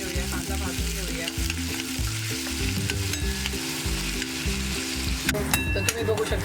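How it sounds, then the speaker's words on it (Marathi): Chopped onion and curry leaves frying in a pan for a Malvani-style fresh cashew dish, a strong close sizzle under steady rhythmic stirring and scraping, with a few sharp clinks near the end. "आता हे मी सर्व घालून घेते, कांदा आणि कढीपत्त्याची पानं। आणि जरा व्यवस्थित मिक्स करून घेऊया, कांदा भाजून घेऊया।"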